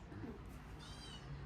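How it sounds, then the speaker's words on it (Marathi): A domestic cat meows a few times indoors in a home, fairly faint, with household background noise. "आणि आपलं ते मांजर आहे ना, खूप ओरडते मध्ये मध्ये."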